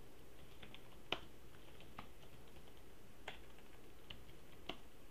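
Computer keyboard typing, a few sparse, faint key taps spread over several seconds against quiet background noise, with no talking.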